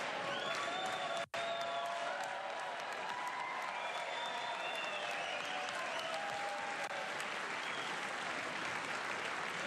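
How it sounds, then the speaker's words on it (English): A large crowd claps and cheers continuously at a live address to Congress, dense and steady throughout, with a brief dropout early on and no clear talking over it. "Crowds chanting USA, baby"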